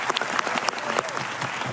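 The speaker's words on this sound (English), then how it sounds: "Please applause, thank you." An audience claps in a brief, dense burst of applause, steady and fairly close, with a few faint voices mixed in.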